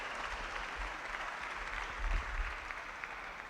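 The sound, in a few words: audience applause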